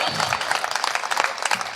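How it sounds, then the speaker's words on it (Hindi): An audience claps at a poetry event, with dense fast applause filling the short moment and a voice faintly present beneath it. "स्वागत, एक बार जोरदार तालियां"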